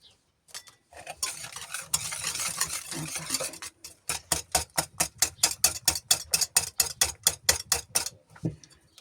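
Waffle batter with vanilla sugar is whisked in a bowl. A stretch of continuous rapid stirring gives way to about sixteen sharp, evenly spaced whisk strokes clattering against the bowl, close and loud, with no talking.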